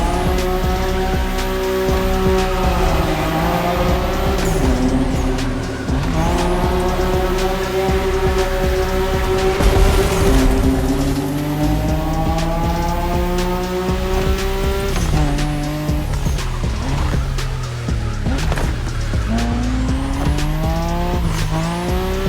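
Racing car engine in The Crew Motor Fest game revs and bogs in sweeping harmonic arcs while tires squeal through continuous drifts, loud and close for the whole stretch with no talk.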